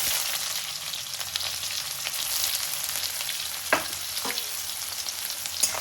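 Chopped onion hisses steadily in hot oil with cumin seeds and dried red chilli, a dense continuous sizzle broken by a couple of sharp spoon knocks near the end.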